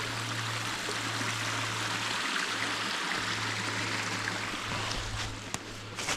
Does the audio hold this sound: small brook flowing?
yes